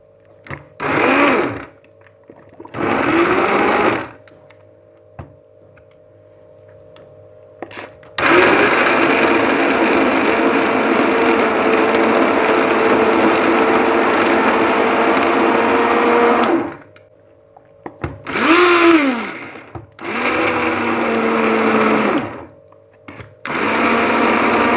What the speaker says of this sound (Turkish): Blenderdan geçeceğim.